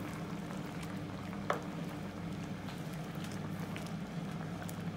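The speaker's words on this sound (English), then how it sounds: "I'm gonna simmer it for around 2 to 3 minutes" Chicken curry simmering in its sauce over low heat, a steady soft bubbling and sizzling hiss that runs evenly throughout, with one small clink partway through.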